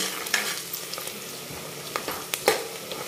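Onions frying soft in a pan with oil for rasam, a steady sizzle broken by scraping, clattering strokes of a spoon stirring, close and fairly loud.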